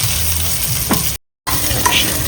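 Onions frying in oil for a dry fish and beetroot curry give a loud, dense, close sizzle with a brief stirring scrape, cut by a short moment of silence before the hissing resumes.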